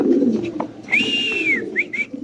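White Spanish pigeons in a loft give low, soft coos along with a clear whistled call that rises and falls, then two shorter whistled notes, close by with no talking.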